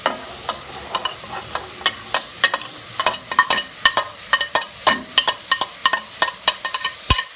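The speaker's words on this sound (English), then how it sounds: "So you're gonna cook up the saltfish with the seasoning together." Saltfish and seasoning cook together in a pot for a Jamaican gungo peas stew, with rapid, irregular clinks and scrapes of a spoon stirring against the pot over a low sizzle, close and fairly loud.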